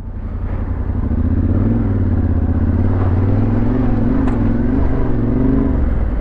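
Off-road motorcycle running over technical terrain, its engine droning steadily close by with throttle blips and rumble, no talking.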